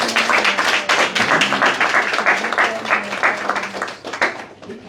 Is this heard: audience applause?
yes